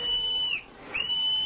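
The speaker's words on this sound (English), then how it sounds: "in desperation I blew my whistle" A whistle is blown in a radio play, heard as two steady, shrill, high blasts separated by a brief pause, loud and close.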